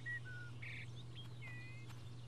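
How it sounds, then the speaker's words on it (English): Small bird chirps from a chicken in the fantasy video game Fable: The Lost Chapters, a few short thin tweets and whistles spaced irregularly over a constant low hum, faint and with no speech. "Can we kick the bird?"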